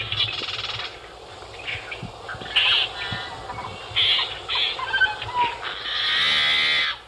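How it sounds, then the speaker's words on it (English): Birds squeak and chirp in bursts outdoors at Anahuac National Wildlife Refuge, several calls overlapping at varying distances with a low rumble of background activity. "you probably could hear most any kind of squeak from a bird out there"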